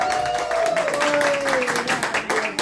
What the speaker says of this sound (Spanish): Un aplauso bonito para el compañero.